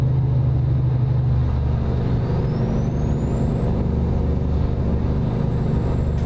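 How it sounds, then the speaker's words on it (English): Simulated truck engine brake in American Truck Simulator on a downhill grade, a loud steady low rumble and drone throughout, with a faint rising whine above it and no talking. "We're going down the grade. My jake brake came on automatically."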